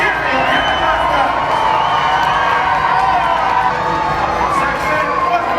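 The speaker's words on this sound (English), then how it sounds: "Come along, cheer for your pirates!" Children and adults in a pirate dinner show audience cheer and shout loudly and continuously for their pirates, a dense, excited roar that stays strong the whole time.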